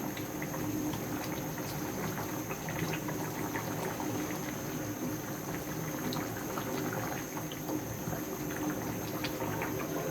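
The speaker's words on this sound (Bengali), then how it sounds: "এইখানে মাংসটা সিদ্ধ হয়ে যাবে, অলরেডি আমার সিদ্ধ করা আছে।" Beef simmering in a pot of water on a stovetop, giving a steady, faint bubbling boil with a constant high whine in the background and no speech.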